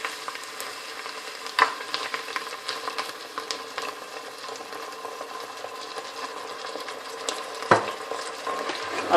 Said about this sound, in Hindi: अब मैं इसको भूनूंगी।